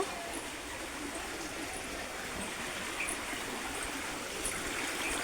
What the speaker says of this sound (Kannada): ಎಷ್ಟು ಚೆನ್ನಾಗಿ ನೀರು ಹರಿತಾ ಇರುತ್ತೆ